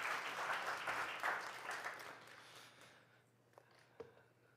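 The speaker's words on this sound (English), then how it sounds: "Please give him a big round of applause." A lecture audience applauds to welcome speaker Léopold Lambert, loud clapping that fades out over a few seconds into near quiet with a couple of isolated knocks.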